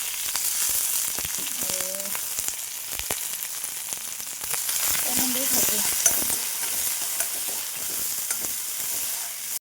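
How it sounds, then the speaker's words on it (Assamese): Onion frying in a little oil in a kadai, giving a steady close sizzle throughout with occasional stirring scrapes and clinks, and a few brief background voices. "আৰু ইয়াতে পিঁয়াজ অকণমান দি দিছোঁ"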